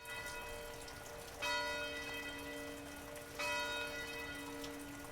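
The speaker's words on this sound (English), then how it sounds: "he rings the bell, a loud announcement for the zombies to come to your exact location" A church bell rings in the zombie survival game Guts & Blackpowder, with two loud clangs about two seconds apart, each leaving a long sustained metallic hum over a steady background hiss.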